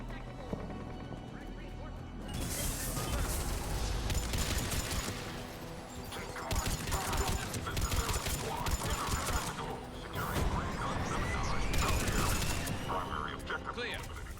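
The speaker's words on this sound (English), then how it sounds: "Taking enemy fire." Enemy gunfire in the sci-fi shooter Mass Effect 3 rattles in dense, sustained volleys of rapid shots, with mechanical clanks mixed in and voices likely talking over the battle.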